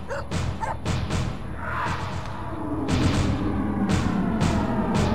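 A dog barks repeatedly in a tense scene from a South Indian action movie dubbed into Hindi, sharp loud yaps spaced across a low rumbling background.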